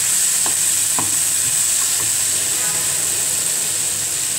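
Minced meat frying with ginger-garlic paste in a pan, a steady close sizzle and steam hiss with a few clinks and scrapes of stirring near the start.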